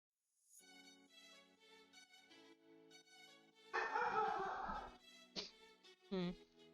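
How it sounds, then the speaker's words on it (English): A dog barks and whimpers, with high whining yips followed by a loud burst of barking and two sharper barks near the end. "I don't know what she's barking at."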